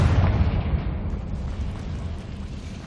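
A Confringo blasting spell explodes in Hogwarts Legacy, a single loud booming burst that decays into a rumbling tail over about three seconds.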